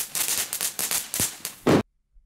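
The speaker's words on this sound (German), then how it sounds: "hier hört man dann schon eine Explosion" Minecraft firework sounds play back as a quick run of sharp crackling pops and bursts that ends in a louder blast, then sudden silence.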